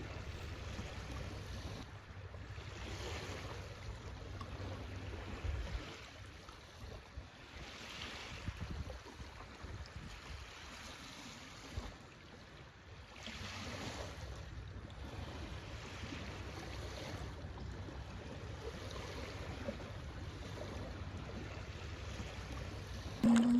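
Ocean waves wash in and out continuously, with periodic surges of surf and steady wind noise buffeting the microphone; no voices.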